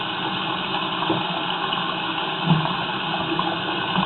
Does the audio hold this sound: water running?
yes